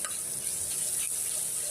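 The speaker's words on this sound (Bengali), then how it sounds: "তেল দেওয়ার পর এই যে পেঁয়াজ দিয়েছি, পেঁয়াজটাকে আমি এখন ভালো করে নাড়িয়ে দেবো।" Chopped onion sizzles and crackles in hot oil while being stirred in a pan, a steady close frying hiss with no voices.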